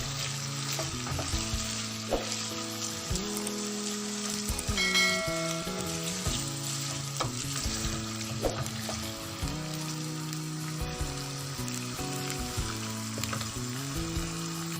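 Half a kilo of chicken frying on high flame in a karahi for Shinwari karahi, a steady hiss of sizzling oil with stirring scrapes, under a prominent droning tonal background.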